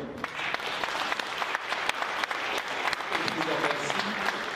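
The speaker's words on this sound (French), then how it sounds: "je crois qu'on peut t'applaudir pour ce nouveau magnifique mondial du rhum" Sustained applause from a crowd at a rum festival in the Palais Brongniart in Paris, honoring an organizer, a dense continuous patter of clapping with some louder individual claps close by and faint voices beneath.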